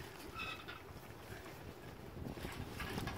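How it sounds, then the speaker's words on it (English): Steady wind buffeting the microphone, a constant low rumble and roar with no voices, filling the whole stretch evenly. "because it's so windy"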